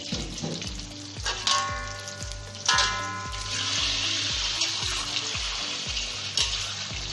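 Beaten egg mixture sizzles steadily in a hot pan while an omelette-style fried egg cooks, with a continuous crackle and repeated soft scraping strokes of a utensil in a steady rhythm, close and alone.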